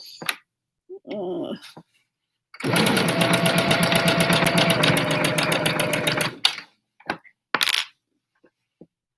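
A regular home sewing machine runs in one steady burst of about four seconds while top stitching a face mask, a close rapid rhythmic clatter of the needle, framed by brief handling clicks and knocks.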